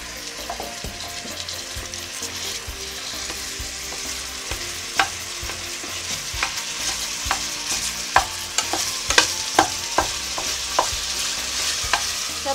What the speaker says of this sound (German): ich brate jetzt das Hackfleisch an